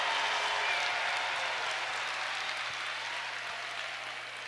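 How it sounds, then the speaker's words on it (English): Crowd noise from a basketball game at Crisler Arena, with the Michigan Wolverines facing the Maryland Terrapins: a steady, loud wash of cheering and applause that holds throughout and eases slightly toward the end, with no talk. "the crowd is getting into it here in Chrysler"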